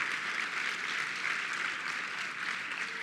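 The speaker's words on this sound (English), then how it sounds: "Give everybody a round of applause." A room of attendees at a charity gala gives a round of applause: continuous, fairly soft clapping from a crowd, even in level throughout, with no talking.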